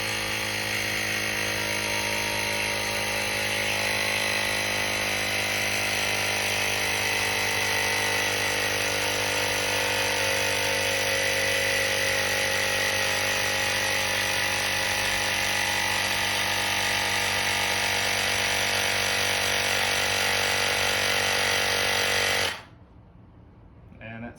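A portable car tire inflator pumps up a small bike tire with a loud, steady mechanical buzz and rattle that drones on unbroken for over twenty seconds, then cuts off abruptly when it stops.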